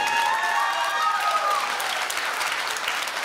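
Loud, stormy applause fills a live stage show in Montreal, a dense wall of clapping from a large audience that stays strong from start to finish.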